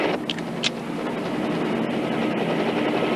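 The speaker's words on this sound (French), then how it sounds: "C'est un hélicoptère de la circulation." A steady, heavy mechanical roar of a traffic helicopter overhead, constant and fairly loud with no talking.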